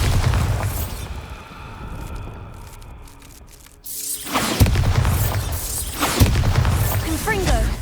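A Bombarda spell explodes in the PlayStation 5 video game Hogwarts Legacy. A heavy, booming blast with a shattering crash hits suddenly after a quieter stretch, followed by a second loud burst of rumbling debris.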